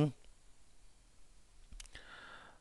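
A mouse clicks a toggle during After Effects editing. There is one or two faint, sharp clicks in near-quiet, just after a brief bit of speech at the start.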